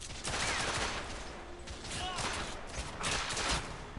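Gunfire in The Order 1886, a dense, continuous rattle of shots and impacts heard fairly loud, with a few brief whistling ricochet-like tones over the battle noise.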